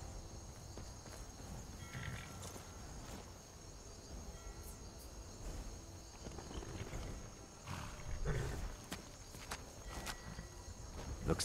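Steady clopping of horse hooves in the video game Skyrim over a rumbling, busy background with faint tonal hum, continuing throughout without a clear break.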